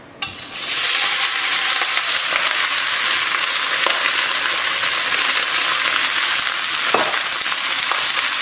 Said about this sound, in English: I'm going to throw a little bit of olive oil into this skillet, and we're going to go ahead and toss our meat and onions in there.